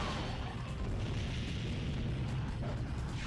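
A tank is blown apart in the video game Shinobi: a dense, steady low rumble of booming blasts and mechanical clatter, continuous and fairly quiet throughout with no talking.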